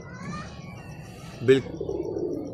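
A pigeon from a champion breeding pair on a rooftop coos softly, with a faint low murmur and one brief sharper call near the middle, all close by.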